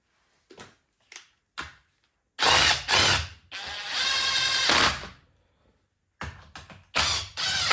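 A hand ratchet tightens bolts on a Suzuki Samurai that sat for five years, heard as a few short clicking bursts followed by longer rapid ratcheting runs, close and loud.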